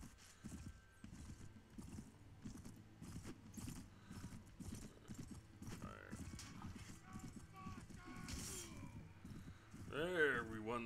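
Horse hooves gallop in the Viking Conquest video game, a rapid steady beat of clip-clops during a battle, with a whinny near the end and someone talking over it.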